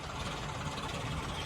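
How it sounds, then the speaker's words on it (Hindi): A tractor engine runs steadily nearby, a continuous low throbbing drone with a rough mechanical texture and no change in pace across the short stretch. "ट्रैक्टर आवाज कर रहा था, मैं रील्स बना रही थी।"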